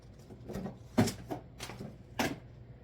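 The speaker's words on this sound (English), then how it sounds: "I'm knocking things off my table into the trash can." Objects knocked off a cluttered table drop into a trash can in a few scattered, light thumps and clatters, with two sharper knocks standing out. The sounds are close and quiet, with no talk.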